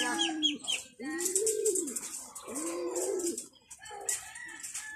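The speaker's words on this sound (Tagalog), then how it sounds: "yung ating Sinuling kalapate" Soft, low cooing from a pigeon, a few drawn-out rising and falling calls in a row, close by with a faint background hiss.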